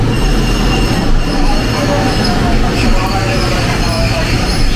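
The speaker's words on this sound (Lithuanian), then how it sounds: "Atvykome su šitu Purple traukinuku." Loud, steady rumble of an old purple train in Kyoto, a continuous close roar of wheels on rails with faint high squeal, unbroken for the whole stretch.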